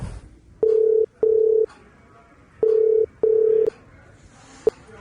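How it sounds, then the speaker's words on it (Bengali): Phone dialing tones sound as a call is placed: four steady beeps in two pairs, loud and close, then a brief click, with no talk. "দাঁড়া, এখনই কল করছি এদেরকে"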